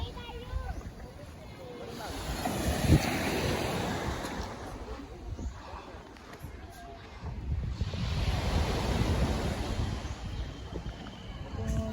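Sea waves wash in broad swells under wind noise at Ezzura Beach resort in Zamboanga, rising and falling twice, with people talking faintly nearby.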